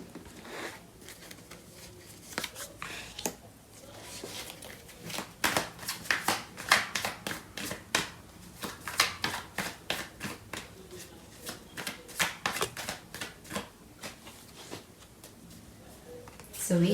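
Tarot cards are shuffled and handled in a series of soft, rapid riffles and flicks close by, rising and falling in loudness over a quiet background.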